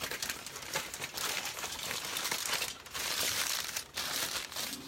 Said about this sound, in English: So then we just wrap it up in the foil